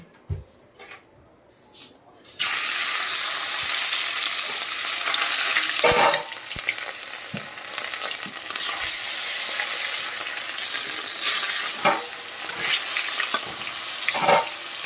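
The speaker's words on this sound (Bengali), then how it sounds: "এখানে তেল গরম হয়ে গেছে, মাছটা ছেড়ে দেবো।" Hilsa fish sliding into hot oil beside aubergine, breaking into a loud, steady sizzle that fills the kitchen after a couple of quiet seconds of small handling clicks, with occasional stirring knocks and spatters throughout.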